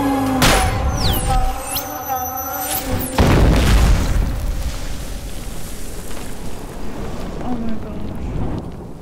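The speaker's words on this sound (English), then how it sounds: "He's gonna shoot him." Gunshots in the Indian action film RRR: two heavy, booming blasts, the second deeper and longer, over sustained dramatic score and a rumbling background.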